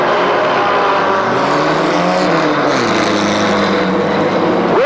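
Mini stock race cars at a 2002 oval-track race roar continuously and loud, their engine notes rising and falling as the pack bunches up through the turns, with no talk over it.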